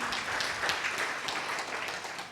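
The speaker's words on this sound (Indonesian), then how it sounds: "Yang setuju berikan tepuk tangan meriah buat Tuhan kita." A congregation applauds during an online church worship service, producing soft, steady clapping that sounds distant and faint and carries on evenly without talk.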